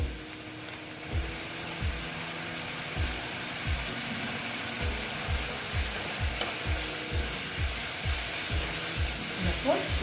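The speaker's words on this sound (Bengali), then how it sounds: "ভালো মতন আমি এটাকে কষিয়ে নিচ্ছি" Small fish coated in chilli powder cook down in a pan, with a steady sizzle under a run of regular scraping strokes from a spatula, close and moderately loud.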